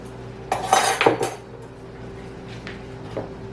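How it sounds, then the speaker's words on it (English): A teaspoon of salt is added to a jar of corn packed for canning, heard as a brief clatter of the metal spoon against the glass jar, then a couple of fainter clinks. "And we add 1 teaspoon of salt."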